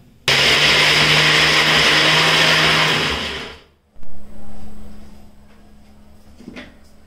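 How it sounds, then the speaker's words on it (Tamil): A kitchen mixer grinder runs loud and close, whirring steadily for about three seconds as it grinds garlic, coconut, pepper and cumin into a paste. It then winds down and stops, and a brief quieter restart follows with a low hum. "பூண்டு, தேங்காய் இதெல்லாம் போட்டு ஒரு வாட்டி நல்லா அரைச்சி"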